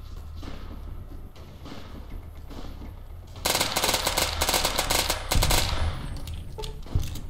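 Ruger SR-556 rifle fired in Fallout: New Vegas, steady game ambience giving way to loud, rapid automatic bursts that run for several seconds at a high fire rate.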